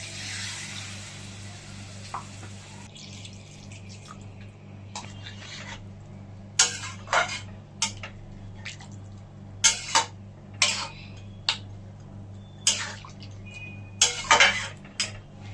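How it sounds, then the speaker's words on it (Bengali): A pot of potatoes with spice-washing water is stirred, producing a string of sharp metallic clanks and scrapes of a spoon against the pot, spaced irregularly over a low steady background hum. "জল দিয়ে ভালো করে নাড়িয়ে এখন ঢেকে দিচ্ছি"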